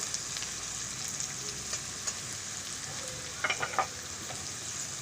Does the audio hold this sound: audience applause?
no